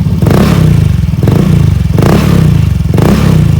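A modified Honda Beat FI scooter engine revs up close and loud in three repeated throttle blips over a steady, rough idle, with no talking.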